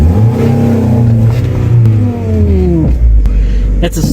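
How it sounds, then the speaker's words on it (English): Mazda Miata engine revving hard during an attempted burnout with a slipping clutch, a loud close rising and falling growl that climbs in pitch then drops off, with brief voices under it. "We gotta check to see if it'll do a burnout first."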